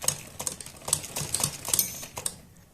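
A sewing machine stitches around the neckline of a patchwork kurti in short, uneven bursts of quick mechanical ticking, close and fairly quiet.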